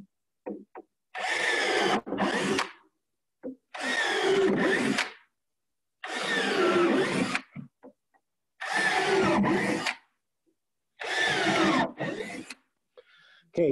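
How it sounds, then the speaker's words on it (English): A power drill boring pilot holes in wood for a garden raised bed, five separate bursts of about a second each with short pauses between, fairly close and clear. "go ahead and drill all the holes."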